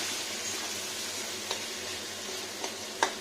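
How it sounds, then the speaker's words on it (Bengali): Vegetables sizzling in a pan while being stirred for a vegetarian potol (pointed gourd) paneer dish, with potato and salt in the oil: a steady faint fry hiss broken by three sharp utensil scrapes near the end. "এবার নাড়া দেবো সুন্দর করে"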